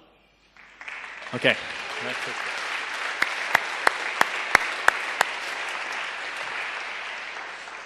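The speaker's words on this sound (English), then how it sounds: "This is where you applaud" Audience applause at a talk on the Obama for America campaign: after a second of quiet a dense wave of clapping swells in and holds, with a few sharp individual claps standing out, and a voice briefly speaks.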